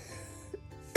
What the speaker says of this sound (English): these coughing fits,